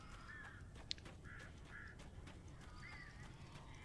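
Birds calling in the video game Alan Wake, set in Maine woods, with scattered harsh caws and quacking cries over a low, steady ambient rumble, faint and somewhat distant.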